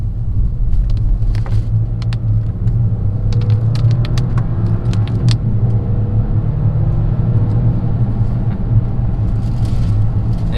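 Heard from inside the cabin, a 2021 Audi Q8's engine pulls hard in second gear with a steady, loud rumble and rising drone, and faint clicks sound over it.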